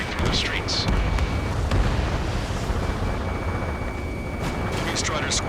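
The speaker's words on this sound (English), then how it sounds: "Gunfire and the roar of jets echoing through the streets." In the Ace Combat 7 video game, a city under martial law fills with dense, continuous rumbling and booms as gunfire and jet roar blend, with a few sharper bursts breaking through.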